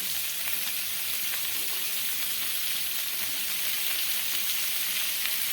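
Paneer, capsicum and onion sizzle in a kadai, a soft, even frying hiss that runs steadily throughout with no speech.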